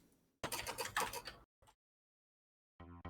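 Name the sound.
clicky computer keyboard typing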